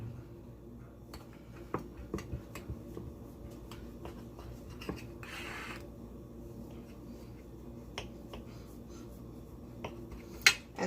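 A knife slices rounds of Scottish scone dough into eight wedges, giving soft, scattered taps and clicks against the board in a quiet kitchen with no talking.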